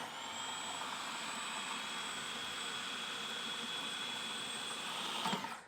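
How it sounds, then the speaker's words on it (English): Food processor whirring steadily as it blends hazelnuts with coconut oil into nut butter, a continuous high motor whine with grinding texture that holds at the same level for several seconds and then stops with a brief clatter. "And we're gonna blend for a further couple of minutes."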